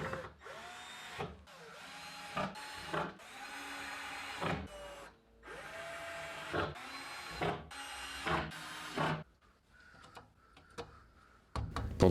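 Power screwdriver driving screws into a metal-and-wood workbench: repeated whirring bursts, each rising then stopping, about eight in a row, followed by fainter clicks and handling noises.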